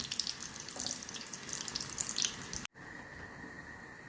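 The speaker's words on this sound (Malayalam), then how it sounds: "ബാക്കിയും കൂടെ എന്നിട്ട് ഫ്രൈ ചെയ്തെടുക്കാം." Thiruvalla-style chicken cutlets fry in a pan with a close, steady hiss and crackle of oil. The sizzle cuts off abruptly partway through, leaving only a quieter, faint background hum.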